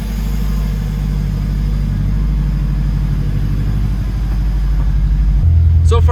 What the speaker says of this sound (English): I'm going to continue letting it warm up, and we'll see if the idle air controller brings it down to the 850